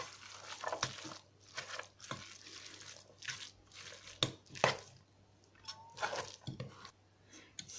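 A pilaf meat mixture is stirred in a multicooker pot, giving soft, irregular wet squelches and scrapes in uneven bursts with brief pauses, fairly quiet and close, with no talking.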